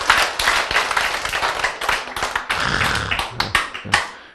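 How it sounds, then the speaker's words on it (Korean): A church congregation breaks into dense, energetic clapping, many hands beating in quick uneven bursts that fill the room for several seconds without speech. "하나님께 감사 박수"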